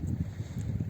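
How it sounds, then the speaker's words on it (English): Wind blowing at Choharnag Lake in Kashmir, a steady low rumble of gusts buffeting the microphone with no clear pauses, loud and close throughout the short moment. "it's getting a little bit windy"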